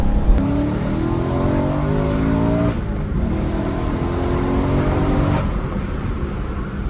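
A warmed-up BMW E92 M3 engine pulls loud and close, its pitch climbing steadily through high RPM in a sustained run with no voices.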